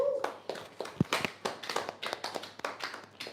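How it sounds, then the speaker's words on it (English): Sales-imprint round-table audience claps for a saleswoman, a modest run of separate, fairly close handclaps in a loose uneven rhythm, a few hands rather than a full crowd, with no talk over it. "A round of applause for her first of all."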